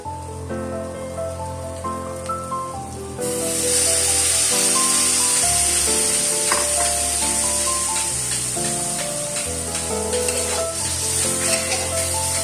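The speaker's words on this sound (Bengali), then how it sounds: "রেখে দেওয়া চিকেন স্টকটা এরপরে অল্প কিছুটা আমি এখানে দিয়ে দেবো কড়াইয়ের মধ্যে।" Spices and chicken stock sizzling in a kadai while being stirred, a loud hissing fry that surges sharply as the liquid goes in, with scraping stir sounds and a faint tonal hum underneath.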